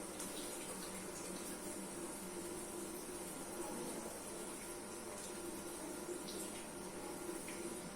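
Tap water runs steadily while hands are washed, a soft continuous splashing and hiss with no break. It is faint and heard without any talk.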